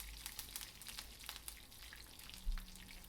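Mustard seeds, three or four dried red chillies and curry leaves frying in a pan for a Kerala ginger curry, giving a soft, steady sizzle with faint pops and crackles and no talk.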